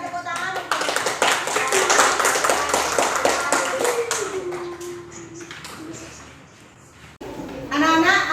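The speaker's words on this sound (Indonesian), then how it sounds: "Berikan tepuk tangan." Students in an Indonesian classroom give a burst of clapping that fades after a few seconds, with children's voices and talk mixed in and a teacher's voice following.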